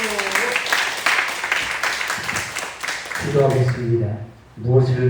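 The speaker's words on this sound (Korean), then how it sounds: "다시 한번 힘찬 박수" A church congregation at a Korean revival meeting claps energetically in a loud burst that fades after a few seconds, then a voice speaks over the quieting room.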